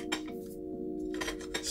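A spoon clinks against an opened sardine can, giving a few quiet, brief metallic taps and rattles close by with no talking.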